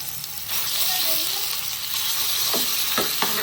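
Green chutney made from Maharashtrian thecha hits hot oil in a pan while cooking kadhi pithla, giving a steady close sizzle with scraping stirs near the end.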